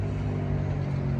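Rush-hour road traffic near the River Plym gives a steady, low rumbling wash of passing cars and engines, continuous and moderately loud with no pauses.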